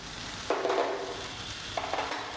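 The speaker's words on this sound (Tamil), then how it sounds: "நல்லா நல்லா வெங்காயம் வதங்கணும் அந்தளவுக்கு வதக்கி விடுங்க" Onions sautéing in a pan for Indian onion chutney, a soft steady sizzle with a couple of faint stirring scrapes, quiet and alone.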